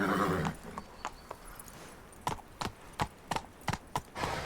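In The Witcher 3, the horse Roach neighs briefly, then its hooves strike in a quick, even run of loud thuds close by.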